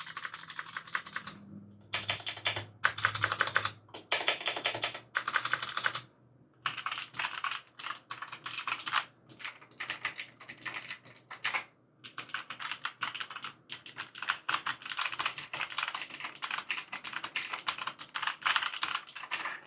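Keys on an EVGA keyboard are typed in quick, dense bursts of close clacking with short pauses between runs, steady and fairly loud with no voice.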